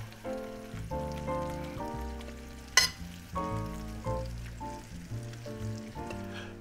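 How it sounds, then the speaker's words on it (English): Bacon and spiral-cut potatoes sizzle steadily in a cast iron pan after being doused with melted butter, a soft continuous frying hiss sitting beneath louder background music with a brief sharp crackle midway. "You can hear that sizzle."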